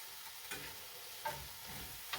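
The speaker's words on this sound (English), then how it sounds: "let's just fry up a little bit longer" Jamaican salt fish fritters, made from a store-bought mix, frying in a pan with a soft, steady sizzle and a few brief utensil clinks, heard alone without talk.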